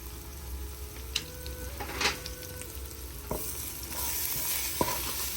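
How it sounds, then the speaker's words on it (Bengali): Spices being stir-fried for chicken haleem: a steady close sizzle in the pan with a few sharp clinks and scrapes of a spoon against the vessel. No one speaks. "মশলাগুলো ভালো করে কষিয়ে নিচ্ছি।"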